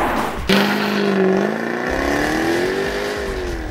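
A Jaguar F-Type V8 sports car engine revs up with a deep, throaty note from quad exhaust pipes, pitch rising and holding, loud and close.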